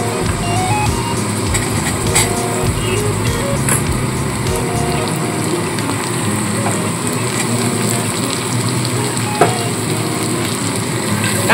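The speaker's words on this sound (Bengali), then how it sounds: "এবার এর মধ্যে আমি কাঁচা লঙ্কা ও পেঁয়াজটাও দিয়ে" Green chillies and onion are added to carrot frying in a pan for poha, sizzling continuously up close with occasional stirring clatter.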